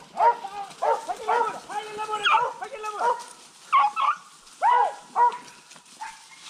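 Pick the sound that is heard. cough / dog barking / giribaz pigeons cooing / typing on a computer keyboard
dog barking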